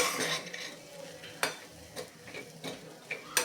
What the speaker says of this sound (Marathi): एक साधारण दोन मिनिटे ही डाळ छानपैकी अजून परतून घेऊयात आपण